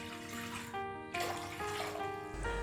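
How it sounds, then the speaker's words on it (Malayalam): Ice-cold water runs steadily into a pan, a continuous close pour with a soft splashing hiss. "ഒരു പാനിലേക്ക് നല്ല ഐസ് കോൾഡ് വാട്ടർ 4 ഗ്ലാസ് ചേർത്ത് കൊടുക്കാം"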